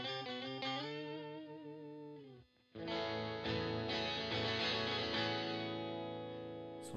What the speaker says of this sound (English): So the next pedal is the Electro-Harmonics Pitchfork octave pedal.